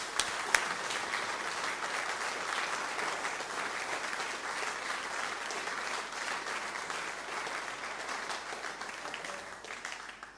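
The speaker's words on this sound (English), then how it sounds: "but we're going to give a clap." A church congregation applauds at a Salvation Army Sunday morning worship service, steady dense clapping from many hands sustained for about ten seconds and tapering slightly at the end.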